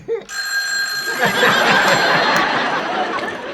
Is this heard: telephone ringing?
yes